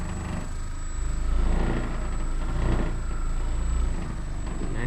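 A Saker cordless car polisher running at speed setting 3.5 on a car's paintwork, a steady whirring motor drone with a constant high whine that swells and eases slightly as pressure changes.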